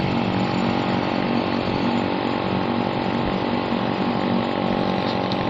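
A motorcycle engine runs on the road with a loud, steady, buzzing drone that holds constant throughout, close to the microphone, with no speech.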